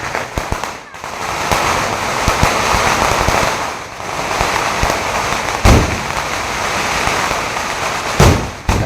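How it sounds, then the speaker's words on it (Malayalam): Firecrackers bursting for a Vishu celebration at a neighbouring house in Kalpetta after rain, with sharp cracks and crackling loud and close over continuous noise, some voices mixed in. "നമ്മുടെ വീടിന് തൊട്ടപ്പുറത്തെ വീട്ടിലെ പടക്കം പൊട്ടിയാണ്"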